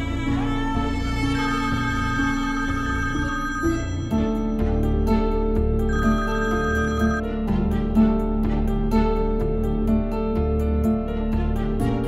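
A phone rings on and on with no one answering, its tone sitting in the middle of a loud, continuous dramatic music score in a Pakistani television drama; no voices are heard.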